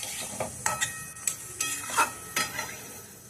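Boiled young jackfruit is stirred and sautéed in a pan for gach pathar curry: a low oily sizzle broken by repeated sharp spatula scrapes and knocks against the metal, close by, no talking.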